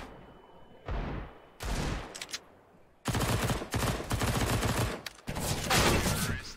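Video game gunfire rattles out in loud, rapid bursts separated by short pauses, the automatic fire growing denser and more continuous toward the end.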